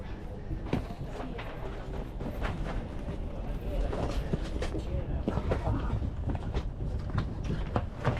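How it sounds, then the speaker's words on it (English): A high-speed train in Italy starts to move, with a steady rolling rumble and scattered clicks and rattles from the carriage, while voices talk faintly throughout. "The train has started moving."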